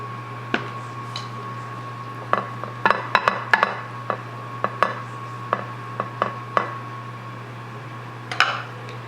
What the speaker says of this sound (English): I'll place it in my casserole dish